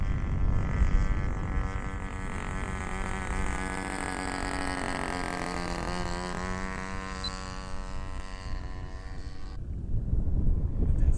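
A radio-controlled model airplane circles in to land, its small engine a steady buzzing drone with a slowly shifting pitch that holds for several seconds before cutting off, with wind noise underneath.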